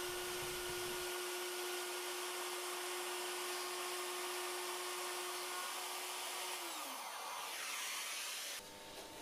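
A wood router cuts a second pass with an 8 mm shim, a loud, high-pitched whine holding steady for several seconds before winding down, with a brief harsh burst at the end.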